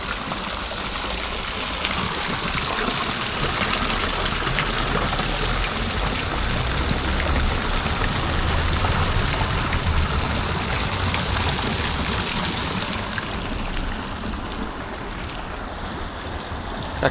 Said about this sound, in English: Nice little water feature.